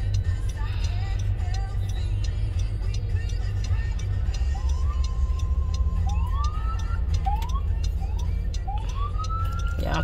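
Ambulance siren on a street in Miami, wailing up and down in repeated sweeps from a moderate distance over a loud, steady rumble of traffic and engine noise.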